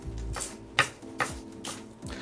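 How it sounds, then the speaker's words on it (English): A knife dices onion pieces on a board for a chicken ragù, sounding as a few sharp, separate chopping strikes spaced about half a second apart over a steady low background. "Next I'm going to dice up an onion."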